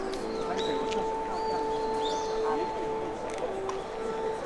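Several birds chirp and tweet intermittently over a steady background hum in Tokyo, Japan, with scattered short calls near and far and train tracks nearby.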